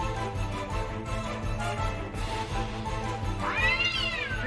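A cat meowing in Final Fantasy IX gives one clear rising and falling meow near the end, over steady game music.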